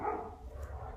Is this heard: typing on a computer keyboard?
no